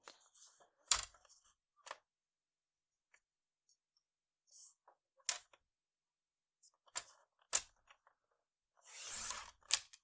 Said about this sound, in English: So I'm gonna go ahead and make that cut.